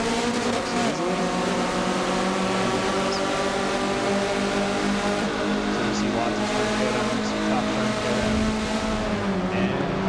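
A Spec Miata race car engine revs on a restart, a continuous, loud, droning engine note held steady throughout with slight rises and falls in pitch.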